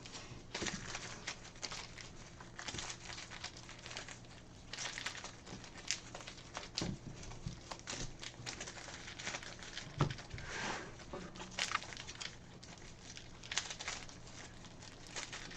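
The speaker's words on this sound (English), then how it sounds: "Card shuffling, the most exciting thing." Two decks of playing cards being shuffled at a tabletop card game, irregular bursts of crisp riffling and flicking close to the microphone, with quiet pauses between shuffles.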